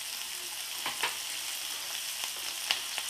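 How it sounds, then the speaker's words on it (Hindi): Onions, ginger and green chillies fry in a pan for a spicy gram-flour aubergine dish. The sizzle is steady and close, with a few sharp crackles and pops scattered through it. "अब हम इसमें ये प्याज भी डाल देते हैं, क्योंकि प्याज को भी हमें इन्हीं के साथ भूनना है।"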